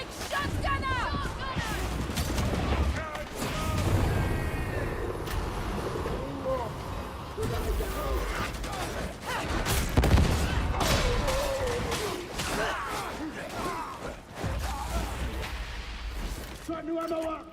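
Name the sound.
shotgun gunfire in a video game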